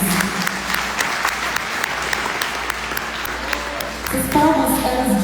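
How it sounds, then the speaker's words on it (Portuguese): A church congregation applauds to welcome visiting family, steady clapping from a gathered crowd with a few sharper nearby claps, swelling louder toward the end as other sounds rise. "As palmas, elas dizem que vocês são muito bem-vindos a estarem aqui neste lugar"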